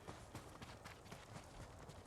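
Horse hooves clip-clopping at a steady trot in Ghost of Tsushima, a quiet, continuous rhythmic patter of several hoofbeats without speech.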